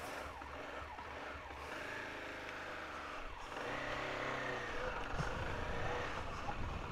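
A CFMOTO 300SR 300cc motorcycle engine hums and drones while riding, pitch rising and falling with throttle shifts, steady wind roar alongside, fairly loud and close.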